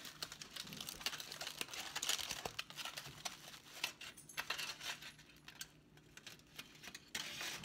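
Tinfoil and plastic wrap crinkle and rustle as they are folded back around an African violet, dense close crackling with small ticks, quiet and continuous.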